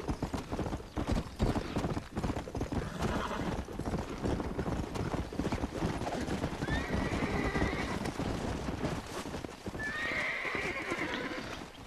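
Wild horse in the Red Dead Redemption video game, with steady clip-clop hoofbeats throughout and two sharp whinnies, one midway and one near the end, all loud and close.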